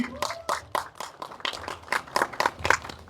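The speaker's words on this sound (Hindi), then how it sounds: "जोरदार तालियां।" Scattered clapping from an audience welcoming guests at a Punjabi movie event, about a dozen distinct claps in an uneven rhythm, fairly close, mixed with crowd voices.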